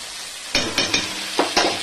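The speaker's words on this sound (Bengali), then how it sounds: "এবারে আমি এই সর্ষে বাটা দিয়ে দিচ্ছি" Taro stolons frying in a hot pan as mustard paste is added, with about five short scraping stirs and sizzling bursts over a steady background hiss.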